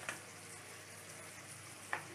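Tomato paste cooks with onion in a pan, giving a faint, even sizzle with two brief clinks of a utensil near the start and end.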